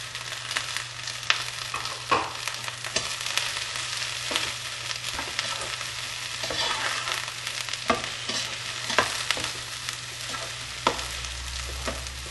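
Long-cut onion slices fry in a pan for a veg pizza topping, a steady close sizzle with irregular stirring scrapes and clicks across the whole stretch, no talk.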